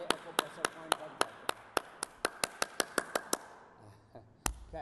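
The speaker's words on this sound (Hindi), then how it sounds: "2 मिनट आप ऐसे ताली बजा लेते हैं तो सारे एक्यूप्रेशर पॉइंट बन जाते" Bare hands clapping steadily for acupressure at a yoga day gathering in Leicester, UK, about fifteen sharp even claps at a brisk rhythm close by, then a pause and one last clap.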